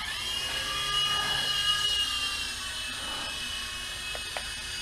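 A GP Toys G610 3.5-channel indoor toy helicopter flies with a steady whirring rotor and motor whine, rising slightly then holding level, fairly close and alone.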